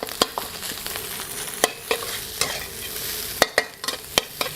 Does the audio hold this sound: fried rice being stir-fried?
yes